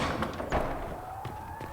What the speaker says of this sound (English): voices of the damned crying every time you enter the chantry